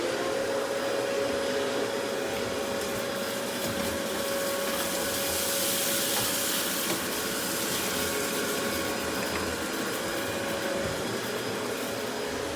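A Bissell Pet Hair Eraser vacuum runs with its hose attached and the brush roll off, giving a loud, constant motor whine that holds steady throughout with no talking.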